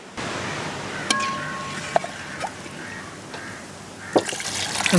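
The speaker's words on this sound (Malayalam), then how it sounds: "ഒരു ഗ്ലാസ് വെള്ളം ഒഴിച്ചോ" Water is poured steadily into a glass, a continuous trickling fill with a few light clinks, and no voices.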